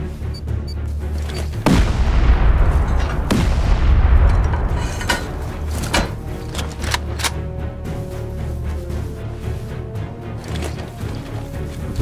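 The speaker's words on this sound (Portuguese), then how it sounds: "Vou tacar uma granada, uma C4 mesmo." Grenade or C4 blasts in the video game Rust, several heavy booming explosions and sharp cracks spread across the clip, loud and close over a continuous rumbling background.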